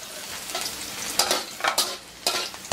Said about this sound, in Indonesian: bawang putih kita tumis sampai harum